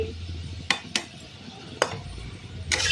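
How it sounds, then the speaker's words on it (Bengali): Potatoes frying in a pan, with a low steady sizzle and a handful of sharp utensil scrapes and clanks as they are stirred, nearby and unaccompanied by talk. "দেখো কত সুন্দর লাল লাল করে ভেজে নিয়েছি"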